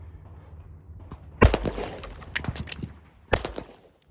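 Two sharp pistol shots in a timed shooting drill, fired about two seconds apart with a pause for a reload between them, loud and close against a quiet outdoor background.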